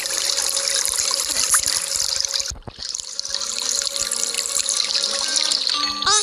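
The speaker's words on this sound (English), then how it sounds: "Perhaps you'd like to hear the soothing sounds of an elegant waterfall." Steady broadband rush of flowing water, loud and continuous, with a brief dip midway before the splashing resumes.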